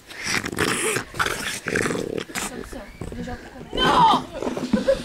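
A dog growls and whimpers close by in bursts of rough, uneven sounds, mixed with a person talking in French over it.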